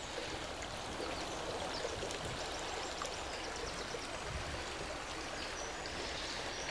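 A stream runs into a river in a wooded valley, a steady rushing and babbling of water that stays constant and fairly full throughout, with no voices.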